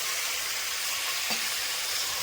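Two or three tomatoes sauté in a pan, giving a loud, continuous hiss and sizzle with one faint brief clink partway through, heard close up with no talking.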